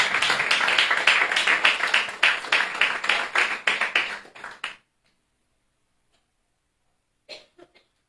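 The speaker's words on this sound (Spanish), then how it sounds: "dame un aplauso al Señor" A church congregation claps in quick, uneven bursts for several seconds before the sound cuts off to silence, followed by a few faint isolated claps or taps near the end.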